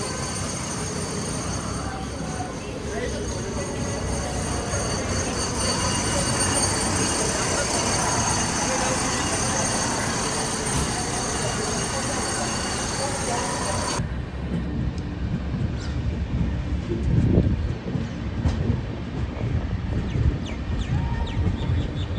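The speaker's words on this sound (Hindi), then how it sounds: "ये ट्रेन यहाँ पे बीच की लाइन से जा रही है, मेन लाइन से" Train rolling along the middle main line through a station with no platforms on either side, on a Jaynagar–Amritsar Humsafar run, heard from on board as a loud, continuous rumble and rattle that eases partway through, with a voice speaking over it.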